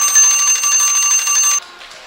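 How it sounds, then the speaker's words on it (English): Buzzer sounding the end of the second period at a girls' U-19 ice hockey game between Ridley College and Boston, a loud, steady electronic tone lasting about a second and a half before cutting off into faint arena noise. "There's the buzzer."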